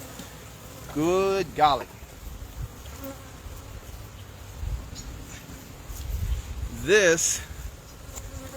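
Honeybees buzz in a well-populated hive during an early spring inspection, a faint steady drone under a nearby person's speech, with a few louder passes close by.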